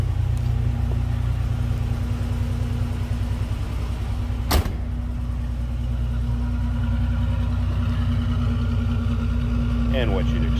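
1987 Buick Regal Grand National GNX engine running at a steady idle, a low continuous rumble close by, with a brief sharp click partway through and a voice speaking near the end.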